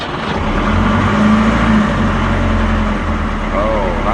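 A narrowboat engine runs steadily at a low, constant rumble early in the morning, close and continuous, while someone talks over it.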